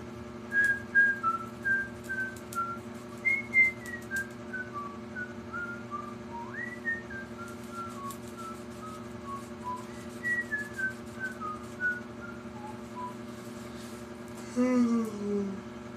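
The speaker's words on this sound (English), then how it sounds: "I can just whistle indefinitely." A person whistles a wandering melody at length, in short phrases and sliding notes, close and moderately loud over a steady low electrical hum.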